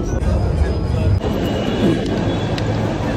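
A loud, steady rumble of a Mumbai metro train in motion heading to Ghatkopar fills the space, with a constant roar, faint high whine and occasional rattles.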